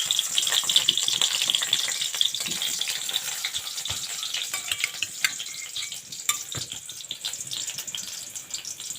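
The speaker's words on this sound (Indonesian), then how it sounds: "Setelah minyak sudah panas, kita masukkan bawang merah dan bawang putih" Shallots and garlic sautéing in hot oil, a bright, dense sizzle running steadily throughout, with occasional stirring scrapes and knocks close by, no talking.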